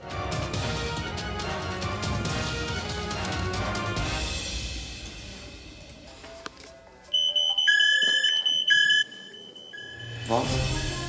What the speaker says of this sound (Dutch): Fuck, brandalarm.